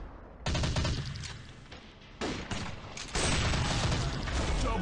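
Rapid gunfire rattles through an Android war shooting game, coming in dense, loud bursts that start, pause and resume, with the volume swelling in the later stretch.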